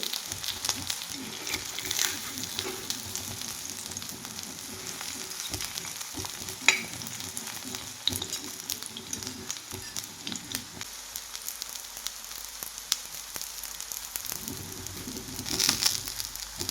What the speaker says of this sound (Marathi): कमी गॅसवरती ना हे कटलेट मी असे दोन्ही साईडने ना कडक छान होऊ देणार आहे